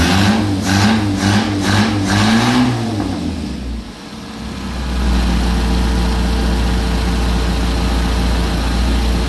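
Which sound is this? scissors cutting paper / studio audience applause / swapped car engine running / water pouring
swapped car engine running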